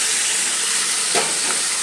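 Drained chicken pieces hitting a hot pan in a tomato-based curry, a steady close sizzle of frying with a brief louder burst as the meat goes in, continuing alone without talk.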